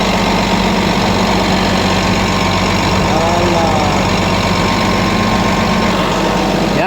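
A Caterpillar 966G loader's 3176 diesel, suffering engine oil mixed into the coolant, runs at a steady heavy idle with a knocking, vibrating rumble, loud and close throughout, and a voice speaks faintly over it.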